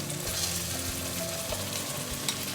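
Black rice hits a pan of fried seafood with a steady, crackling sizzle, punctuated by a few soft scraping stirs, close and continuous with no voices.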